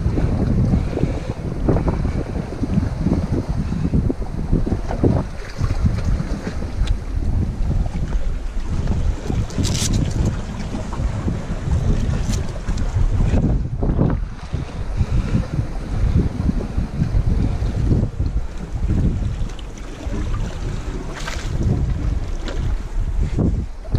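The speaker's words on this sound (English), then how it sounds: "Oh, it's windy here and in the shade." Strong wind gusts outdoors on the Maypole DWS traverse and buffets the microphone. The roar is loud and continuous for the whole stretch, with no voices.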